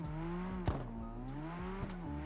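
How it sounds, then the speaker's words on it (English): A 700-horsepower car drifts sideways in the racing game Car X Drift, its engine droning steadily at high revs with shifting pitch and brief squealing tire bursts, loud and continuous with no talk. "I'm trying to drive a 700 horsepower car sideways"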